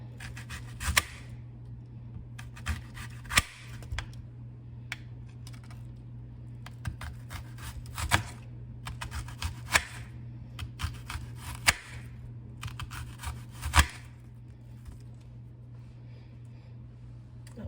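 A knife chops onions on a board for Caribbean-style salt fish, making sharp, close, irregular taps in quick bursts with short pauses between them over a low steady hum.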